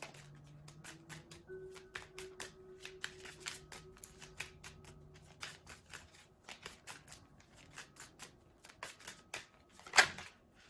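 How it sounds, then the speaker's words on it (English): Tarot cards shuffled by hand in close, quiet riffles and soft slaps, a steady run of crisp papery bursts with a sharper snap near the end and no talking. "so let me just keep on shuffling"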